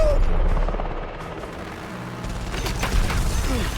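An American helicopter armed with an M134 minigun in the Battlefield 6 video game gives a steady, heavy rotor drone with sharp bursts of gunfire and mechanical clatter layered on top, loud and close throughout.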